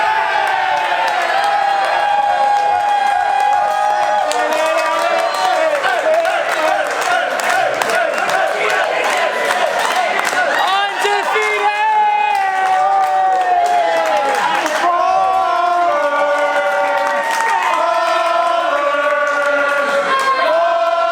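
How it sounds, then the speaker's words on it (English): Crowd at an Oakland Ballers baseball game chanting and cheering, a loud sustained mass of voices with rising and falling tones and shouts, filling the whole stretch. "So I absolutely love that Ballers chant."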